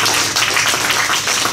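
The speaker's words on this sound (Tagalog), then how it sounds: "Palakpakan natin ang Panginoon sa buhay." Church congregation clapping together, a dense, loud burst of applause filling the room for a moment with no talking over it.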